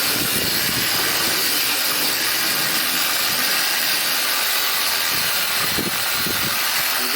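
A machine polisher spreads wax over a 2018 Audi A3 during a quick detail, giving a steady, close broadband whir and hiss that runs without a break and carries no talk.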